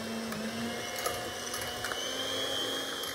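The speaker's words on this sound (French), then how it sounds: "Quand j'ai un batteur, je prends le batteur." An electric hand mixer whirs steadily as it beats cake batter, a close, continuous motor hum with a faint high whine and light rattling from the beaters in the bowl.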